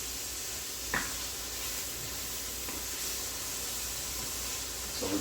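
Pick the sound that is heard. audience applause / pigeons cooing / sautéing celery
sautéing celery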